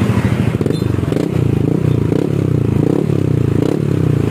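A Yamaha Aerox scooter with an original exhaust idles close by, a loud steady pulsing engine note with metallic rattle throughout and no talk.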